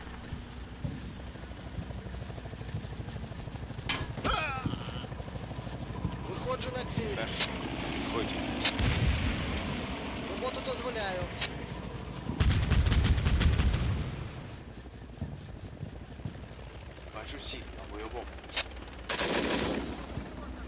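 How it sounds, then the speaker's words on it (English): Hind attack helicopters firing anti-tank guided missiles and 30mm cannons in the war game Combat Mission Black Sea, with repeated bursts of cannon fire and heavier blasts mixed among distant rumbling battle noise. "Our Hinds continue to prowl the terrain, firing off more anti-tank guided missiles and using their 30mm cannons to rip apart enemy AFVs."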